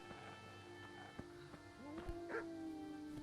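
A dog barking in the medieval video game Kingdom Come: Deliverance, a few short muffled woofs and a drawn-out whine heard over steady game music, moderately distant.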